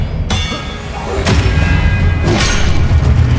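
Expelliarmus spell cast in the video game Hogwarts Legacy, heard as a few sharp clanging hits with bright metallic ringing over a heavy low rumble of battle effects.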